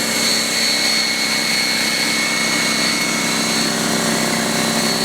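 A Harbor Freight Fortress 27-gallon, 1.6-horsepower, 200 PSI air compressor runs steadily up close, its loud motor and pump drone holding an even, constant roar throughout with no talking.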